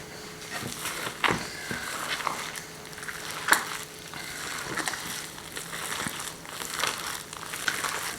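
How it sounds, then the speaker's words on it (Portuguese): Hands squishing and kneading salt cod fritter mixture with three eggs in a bowl, giving soft wet squelches and crinkly mashing sounds in an irregular rhythm, fairly close and alone. "Vou começar por pôr 3 ovos, vou amassar e depois, se precisar de mais, eu coloco."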